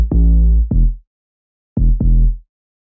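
Deep bass notes from a hip-hop beat: two pairs of heavy, booming plucks with a short pause between the pairs, loud and close with nothing else playing.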